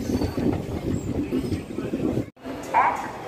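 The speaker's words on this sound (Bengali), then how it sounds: "এই ছাড়লো এনজিপি থেকে এই সবে ট্রেন" Passenger train running after departing New Jalpaiguri (NJP) station, a steady close rumble with rhythmic wheel clatter throughout and a brief dropout near the end, with people talking over it.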